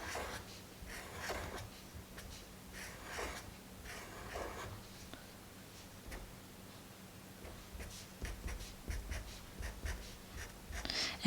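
Marker or chalk drawing groups on a board during a times-tables lesson, with steady scratchy writing strokes in short repeated bursts, close and moderately quiet, no talking.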